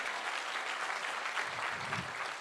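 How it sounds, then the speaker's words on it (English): An audience at a campus conversation event at IIT Kharagpur gives a round of applause for the host professor, dense and steady clapping that fills the hall for a couple of seconds, somewhat distant and soft. "let's give a big round of applause for Professor PPC for hosting us"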